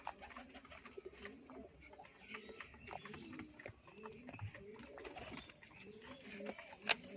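Pigeons cooing quietly through a faint, busy background, with low burbling calls and scattered small knocks, plus one sharp click near the end.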